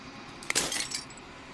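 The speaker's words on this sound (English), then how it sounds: "As the final fragment of glass shatters" Glass shatters in the video game Slay the Princess, a single sharp crash that breaks into brief tinkling fragments before quiet returns, with no voices.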